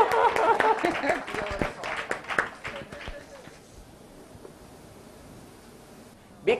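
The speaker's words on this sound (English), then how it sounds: "Big round of applause for all the designers, please" An audience at a floral design summit applauds the designers, with a burst of clapping mixed with a voice over the first few seconds that fades into quiet room noise.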